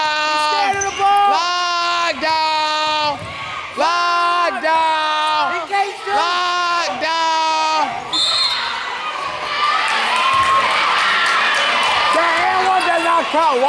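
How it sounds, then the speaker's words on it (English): A group of people screaming in repeated loud, high-pitched bursts, followed by a noisy wash of crowd yelling and cheering. "Why is y'all screaming?"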